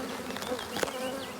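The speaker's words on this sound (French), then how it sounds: "pas mal d'abeilles." Honeybees drone in a steady, dense buzz around an apiary during a hive transfer from a nucleus box to a full hive, close and continuous with individual insects passing near.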